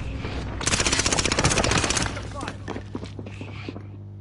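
Rapid automatic gunfire bursts in a first-person shooter video game set in Caldera, a loud close stutter of shots lasting over a second, then scattered single shots and thuds tailing off, with players talking over the action.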